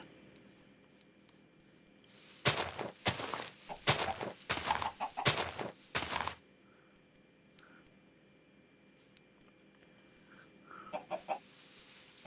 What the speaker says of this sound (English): Come on, chicken.